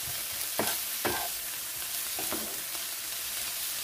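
Onion cooking in a pan is stirred with a few distinct scraping strokes over a soft, steady sizzle, close and clear with no talking.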